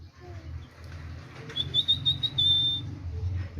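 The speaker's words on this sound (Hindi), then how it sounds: "ये मेरा तोता है।" An Indian Ringneck parrot gives a thin, high whistling call lasting about a second, over low background hum and faint rustling.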